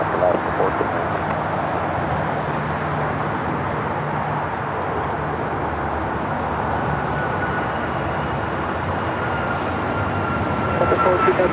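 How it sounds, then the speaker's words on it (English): A Copa Airlines Boeing 737 MAX 9 takes off at Los Angeles International Airport, a loud, broad jet roar sustained steadily throughout, heard from outside with faint voices beneath it. "Next takeoff is Copa Airlines Flight 402 heading to Panama City, a 737 MAX 9"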